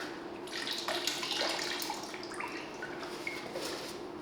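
Water poured into a bucket for a rinseless car wash, a couple of gallons filled with a steady splashing, trickling stream, close by and moderately loud throughout.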